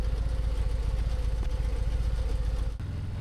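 A Harley-Davidson Fat Boy motorcycle engine idles steadily up close, a low continuous rumble with a brief dip near the end.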